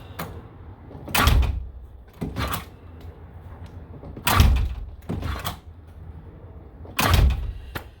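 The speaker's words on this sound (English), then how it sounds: "Now the door is once again easy to close." A door with an aluminum threshold, ground down to stop it dragging, swings shut smoothly several times, each close landing as a firm, near thud with a softer knock just after, and no one talking.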